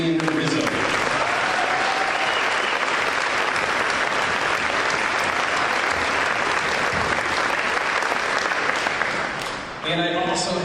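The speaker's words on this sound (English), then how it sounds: "Please round of applause for Lila Fearson and Vivian Rizzo." A crowd at a high school senior awards night applauds two scholarship recipients with loud, sustained, dense clapping that ends after about ten seconds, when a voice resumes.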